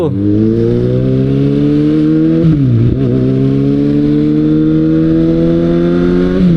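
Kawasaki Ninja ZX-6R motorcycle accelerating hard, its engine note climbing through the revs, dropping briefly at a gear change around the middle, then rising again, loud and close.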